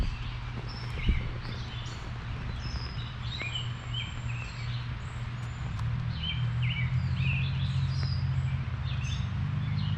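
Birds chirping and calling intermittently in the distance in Fellows Riverside Gardens, Mill Creek Park, Youngstown, Ohio, over a steady low rumble of outdoor background noise.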